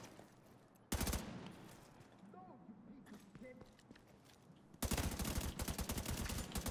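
Bursts of rapid gunfire in The Division 2, two loud dense volleys separated by a quieter stretch of scattered shots, with a voice talking over the action.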